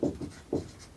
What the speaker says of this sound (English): Let me write that